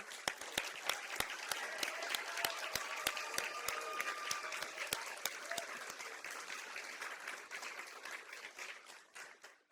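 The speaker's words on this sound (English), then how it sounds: "Dr. Somersille, we're clapping." An audience at a women's history month luncheon applauds in a long, dense wash of clapping, with several sharp nearby claps standing out early before the applause slowly thins and fades.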